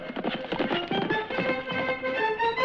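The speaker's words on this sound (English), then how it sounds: "From out of the past come the thundering hoofbeats of the great horse Silver." The great horse Silver gallops in a rapid, rhythmic clip-clop of hoofbeats, loud and close, with the drumming pattern continuing throughout.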